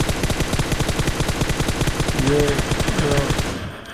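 Rapid automatic gunfire from the mobile battle-royale game PUBG Mobile, a dense steady stream of close, loud shots with a couple of ringing ricochet-like tones near the end before it cuts off.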